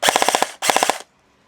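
A Jingji SLR v4 toy gel blaster with an upgraded spring fires full auto in two quick bursts of rapid, evenly spaced shots, close and loud. A short gap separates the bursts, and quiet follows.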